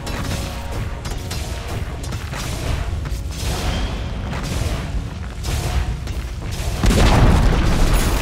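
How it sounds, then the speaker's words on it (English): A Dota 2 tower collapsing in a busy match, heard as a sustained, loud rumbling boom over constant game noise, swelling near the end. "Dire's top tower has fallen."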